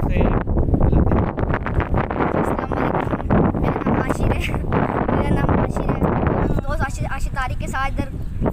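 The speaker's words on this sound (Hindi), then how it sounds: "हवा बहुत तेज है" Strong wind buffets the microphone in loud, uneven gusts, heavy rumbling bursts that crowd over someone talking throughout.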